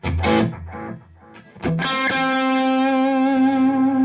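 Electric guitar notes through an MXR Carbon Copy Mini analog delay pedal ring out with heavy delay, ending in a long sustained chord that hangs and repeats in echoes.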